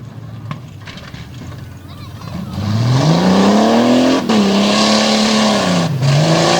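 A Jeep cheater-stock race vehicle launches hard at Dragway 42, its engine rising from a low rumble into a loud, sustained revving roar that climbs in pitch, dips briefly around a shift, then surges again, with a commentator talking over it.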